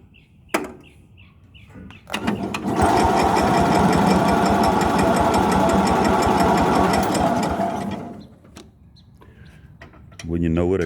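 A Cub Cadet 126 lawn tractor with a new throttle cable cranks briefly, then its engine catches and runs loud and steady for several seconds before dying down, with a short burst of noise at the end.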